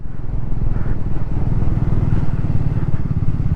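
A Triumph Scrambler motorcycle carrying two riders and luggage hums along steadily, its engine a close, continuous rumble over wind noise on a mountain road with deep turns.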